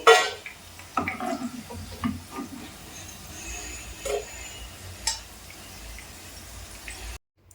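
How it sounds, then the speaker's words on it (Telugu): Fried broad beans scraped out of an oily pan into a bowl, with a sharp metallic knock at first, then scattered scrapes and light clinks of the utensil against the vessels, and a soft sizzle underneath. "ఈ చిక్కుడుకాయలన్నీ దీంట్లో తీసేసుకుందామండి"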